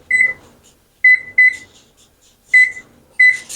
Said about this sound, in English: I'm going to turn the oven on to 250.